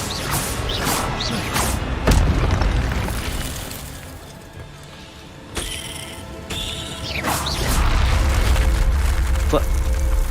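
Incendio fire spell cast in the Hogwarts Legacy video game, bursts of crackling, whooshing blasts and crashing impacts over a rumbling background, mixed with other spell and mechanism effects.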